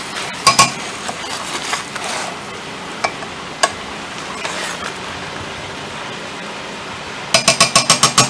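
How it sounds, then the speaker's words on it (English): A pan of rustic potatoes being stirred with a handful of Parmesan cheese mixed in, giving scattered scraping clinks and a quick run of rhythmic utensil taps on the pan at the end, with no talk. "So we take a good handful of the Parmesan cheese. Put it. One last stir."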